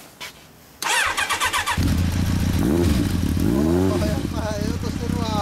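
A 2013 Kawasaki Estrella 250 single-cylinder motorcycle fitted with a Nojima silencer is started after a brief pause, catching with rapid pulses and settling into a loud, close idle with several throttle blips, while people talk nearby.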